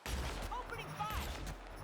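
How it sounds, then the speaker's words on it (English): Gunfire from The Outer Worlds, with a brief volley of shots that crackle and boom together. Muffled voices sit underneath, and the whole burst is faint and lasts under two seconds. "Opening fire."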